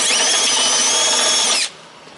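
A power drill whirs loudly and steadily, its high whine running for about a second and a half before cutting off abruptly.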